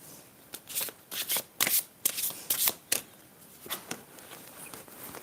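Love oracle cards being shuffled by hand, a close run of quick papery riffles and flicks in uneven bursts over a few seconds.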